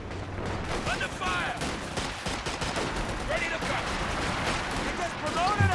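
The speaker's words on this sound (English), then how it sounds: "Machine gun keeping these guys suppressed" Sustained machine gun fire and scattered shots on a Company of Heroes 2 battlefield, a steady dense rattle with distant explosions underneath, continuing throughout under a commentator's voice.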